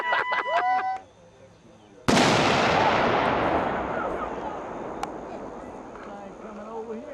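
Anvil blasting at a world championship event: a sudden enormous outdoor boom launches an anvil skyward, its roar rolling and decaying for several seconds after a brief stretch of crowd noise and a whistle-like tone beforehand.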